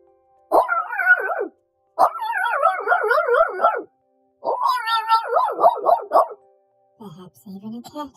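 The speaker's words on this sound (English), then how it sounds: "Perhaps a dog?" Dog sound effect made of long, wavering, howl-like cries in three drawn-out bursts separated by short silences, followed by a shorter, quieter call, loud and close.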